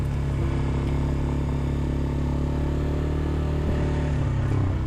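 A small CFMOTO Papio SS motorcycle engine drones steadily close by with a constant rattling hum, holding a fairly even pitch throughout.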